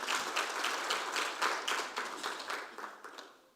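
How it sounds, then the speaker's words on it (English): An audience at an academic conference applauds, a fairly faint, steady patter of many hands clapping that fades toward the end. "that is worth clapping hands for"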